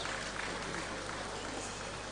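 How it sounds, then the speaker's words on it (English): Dense, continuous applause from a conference audience at a Nigerian digital conference, steady and even throughout with no breaks, heard from within the hall. "Keep clapping, keep clapping, keep clapping."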